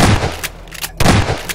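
Gunshots in a Garry's Mod horror map, two loud, close blasts roughly a second apart, each with a short booming tail.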